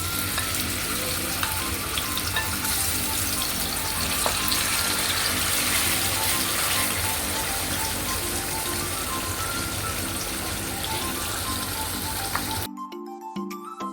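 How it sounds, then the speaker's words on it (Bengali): Marinated chicken pieces fry in hot oil in a pan for a chicken masala fry, giving a dense, loud, continuous sizzle and crackle close up that stops abruptly just before the end. "মাংসগুলোকে ভালোভাবে ভেজে নেব।"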